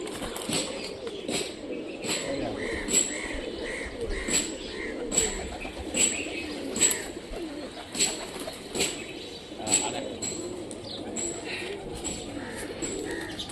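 Old Rajshahi pigeons cooing nearby in soft repeated rhythmic bursts, with occasional wing flaps and sharp clicks, while people talk in the background.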